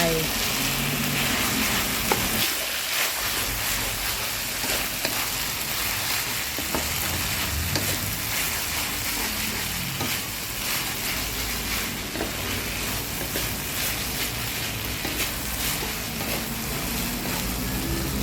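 Korat rice noodles with bean sprouts, green onion and strips of sliced omelette are stir-fried in a pan, sizzling loudly and continuously while a utensil scrapes and stirs close by.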